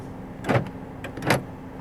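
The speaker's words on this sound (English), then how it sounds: "Central locking." Two mechanical clunks from a 2016 Honda Civic 1.5 TC-P as the central locking actuates, the door locks thudding shut about three quarters of a second apart over a faint steady hum, close and fairly loud.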